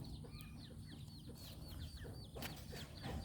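Egg-laying hens on a Thai farm clucking in short repeated calls, fairly close but soft, with faint background noise and no talking.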